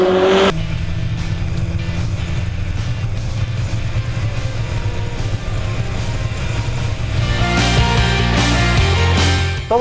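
A car driving hard through curves, its engine roaring loud and close under steady load, with the pitch rising as it accelerates out of a bend toward the end and no talk over it.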